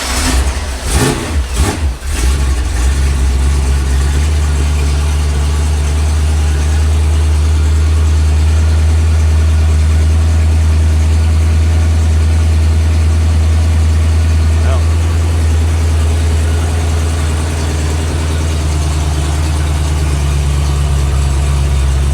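A rebuilt small-block Ford V8 with a manual choke and some choke applied idles loudly and steadily up close, a deep low rumble after a few rough catches at startup, with a voice speaking over it.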